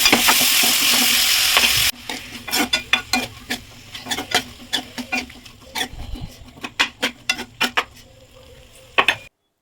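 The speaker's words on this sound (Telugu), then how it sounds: "ఇదే కడాయిలో మనము ఆనియన్స్ అండ్ టొమాటోస్ ఫ్రై చేసుకోవాలి." Onions and tomatoes fry in a kadai for paneer masala. A loud sizzle opens, then a spoon stirs and scrapes in a string of uneven clinks and scrapes over a quieter sizzle.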